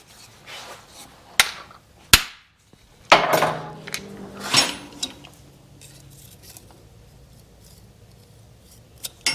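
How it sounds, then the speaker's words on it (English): Sharp metallic hammer strikes on the top of a Yamaha AT-1 MX engine part during an engine build, several separate smacks spaced irregularly with quiet gaps and small clinks between them. "I'm going to try to just smack the top here a little bit with a hammer"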